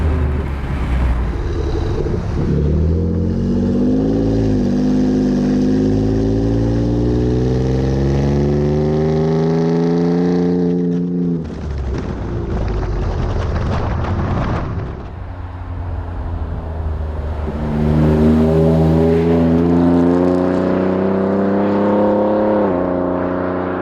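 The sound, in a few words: Ford F-150 Raptor engine with aFe cat-back exhaust, downshifting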